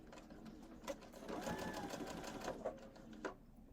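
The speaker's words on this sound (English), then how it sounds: "Go ahead and back stitch to the edge, and then I will sew forward." A sewing machine stitches forward on a patchwork pouch, its motor whirring steadily up close, with rhythmic mechanical ticks through the run.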